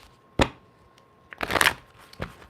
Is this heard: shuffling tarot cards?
yes